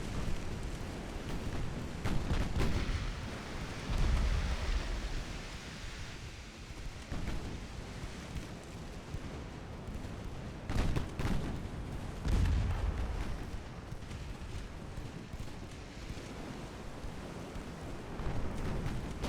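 Naval gunfire in a naval warfare game set in an 1897 campaign, with 7-inch guns firing as a few deep booming blasts over continuous low battle rumble, distant-sounding and moderately faint.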